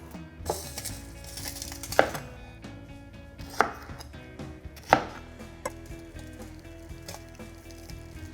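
Cauliflower stems chopped with a knife on a board, several irregular cutting strokes with three louder sharp knocks, close and clear with no talking.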